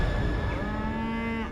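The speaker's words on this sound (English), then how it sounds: "Anne Milner was tending to the family cows as a demon lurked in the field" A cow lows in a misty meadow, one long, loud, close moo that slides in pitch and fills the whole moment, with no voices.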